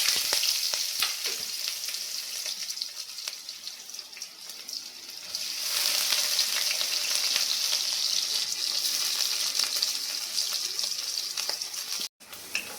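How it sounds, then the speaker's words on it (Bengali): Onions frying in hot oil left over from frying small potatoes, a dense close sizzle and crackle holding steady throughout, rising louder about midway, with a brief dropout near the end. "এবার এই তেলের মধ্যেই আমি কি করব, পেঁয়াজগুলো দিয়ে নেব।"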